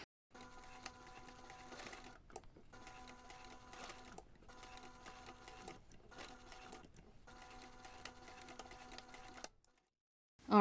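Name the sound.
sewing machine top stitching fabric ornament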